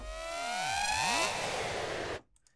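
A synthetic cyber siren sample sweeps through warbling, glassy tones with swooping pitch bends, loud and sustained, then cuts off abruptly near the end.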